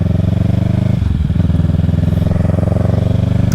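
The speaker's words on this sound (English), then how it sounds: "this bike sounds really good in person for a parallel twin, but it just doesn't come out good on camera" A 2024 Kawasaki Ninja 650 parallel twin idles with a loud, close, pulsing throb and a short blip of throttle early on, then settles back into its steady lumpy beat.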